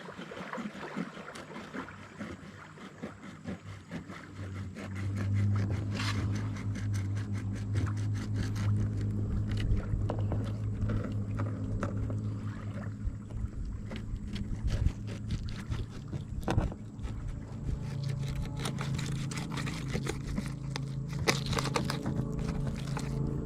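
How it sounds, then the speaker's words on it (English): A boat motor drones low and steady in the distance as it passes across an open lake, with wind buffeting and faint water noise throughout. "Just had a boat go by, so I'm kind of waiting for it to calm down."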